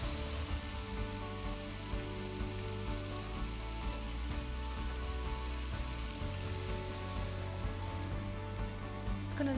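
Courgette, fresh peas, rosemary and garlic cook in a hot pan, giving a steady, close sizzle and frying hiss that runs evenly throughout with a low hum beneath.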